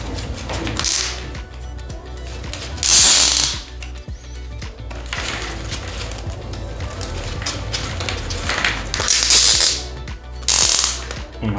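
Ratcheting clicks from a cable collar clamp being tightened over electrical conduit during a home rewiring job, with several loud bursts of rapid clicking at intervals over a steady low mechanical background.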